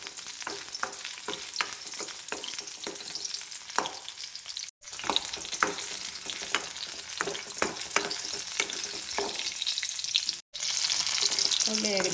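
Small onions fry in a pan for a dried prawn and raw mango chutney, a continuous crackling sizzle with sharp pops and stirring clicks, close and moderately loud, briefly broken twice.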